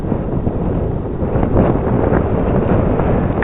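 Steady wind buffets the microphone outdoors on a gusty day while a Dynam FW-190 RC warbird flies upwind, a continuous rushing roar with slight swells and no distinct engine tone standing out.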